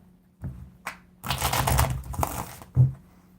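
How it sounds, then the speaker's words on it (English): A deck of playing cards being shuffled up close, a quick riffling flutter preceded and followed by soft taps. "Let's get a good shuffle of the cards and we're going to start."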